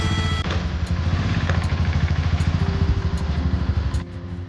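A motorcycle engine rumbles steadily close by after a short start, with a rapid pulsing exhaust throb setting off on a monsoon ride through Meghalaya's Markham Valley.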